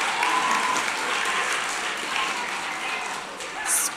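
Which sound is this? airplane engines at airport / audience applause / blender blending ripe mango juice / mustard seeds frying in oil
audience applause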